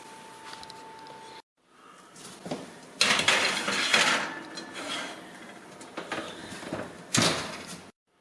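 Pizza pans holding small pizzas from a crust mix are slid into an oven, with metallic clatter and scraping, the oven door opening and closing, and rack rattles in close, uneven bursts.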